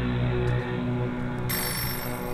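A telephone rings inside the horror video game Midnight: Submersion as a steady, loud electronic tone that holds through the short span with a slight shift partway, heard alone with no talking.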